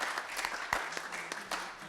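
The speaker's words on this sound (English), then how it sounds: "So it's a big round of applause, guys." Applause from a church congregation at a Mothering Sunday service greets the speakers, a brief, fairly soft burst of scattered hand claps with a few sharper individual claps standing out.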